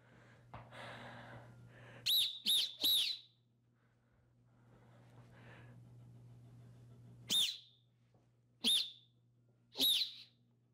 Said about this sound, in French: tu suis le son du sifflet